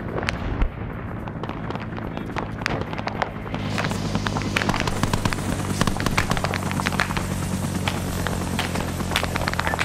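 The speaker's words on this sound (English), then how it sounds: "Charlie, if you're at the fucking chopper, load up" Military helicopter in a Vietnam-era war video game, a steady loud rotor and engine drone throughout with sharp gunfire-like cracks and bursts scattered over it, growing denser partway through.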